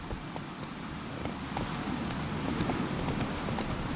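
Hoofbeats of Roach, Geralt's horse in The Witcher 3: Wild Hunt, sound as a steady rhythmic clip-clop on the ground, close and moderately loud over faint outdoor ambience.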